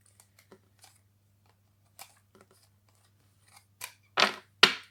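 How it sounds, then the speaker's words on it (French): Tarot cards are shuffled and tapped back into order with sparse light clicks and rustles, ending in three louder close flicks of the cards, against a quiet background hum. "je remets mes cartes en ordre"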